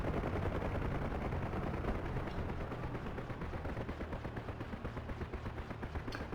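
Rockets and gunfire in the DCS combat flight game, a dense roaring barrage that turns into rapid rhythmic bursts of fire over a heavy engine rumble, with no voices.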